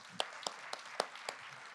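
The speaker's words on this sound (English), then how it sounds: "join me in giving a round of applause to Todd and his fabulous staff" A small audience clapping at a panel screening event, a short sparse round of a few distinct hand claps spaced out, fairly faint.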